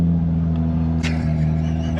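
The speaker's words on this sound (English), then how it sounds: "So guys, Joseph's driving the car" A Toyota Supra MKV A90 fitted with a 2JZ engine drives along with a loud, steady, deep engine drone and low rumble, close and continuous, with a brief thump around the middle.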